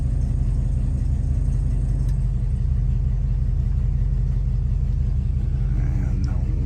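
Cooling fan running on a 1955 Buick Special Riviera, a steady low whir over the engine's rumble, heard close and unchanging throughout, with no talk.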